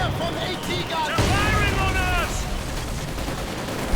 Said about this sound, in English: And another strafing run